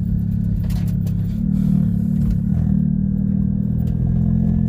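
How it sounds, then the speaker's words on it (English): A big-turbo Ford Fusion's engine drones steadily under load at a drag strip, its low rumble surging and briefly stuttering as it breaks up under boost, with faint clatter on top. "Sounds like it's breaking up a little bit under boost."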